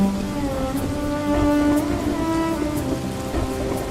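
Steady rain falling, a continuous dense wash with a faint tonal hum underneath and no voices.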